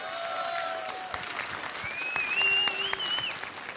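Crowd at the ESL One Katowice 2015 Counter-Strike major applauds Ninjas in Pajamas after a playoff semifinal, clapping and cheering in a large arena while whistles and tonal effects rise over the steady applause.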